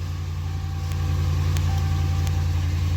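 A Dodge Hemi V8 car engine idles steadily after starting with a new set of spark plugs and coils, a deep, even low rumble holding constant throughout, with a few faint clicks over it.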